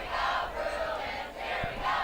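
A crowd at a Santa Clara versus Wilcox varsity football game cheers and roars from the stands in broad, swelling waves of voices, loud and continuous with a few brief dips.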